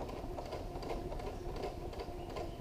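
Sewing machine stitching a Cricut Maker dust cover, a steady close mechanical whir with a fast rhythmic needle chatter running the whole time, quiet and alone.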